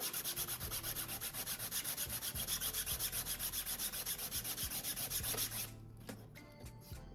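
Rapid rhythmic sanding of a 3D printed TV unit, low grit sandpaper rubbed back and forth in quick even strokes up close, then stopping abruptly near the end.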